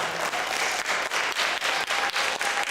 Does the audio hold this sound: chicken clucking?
no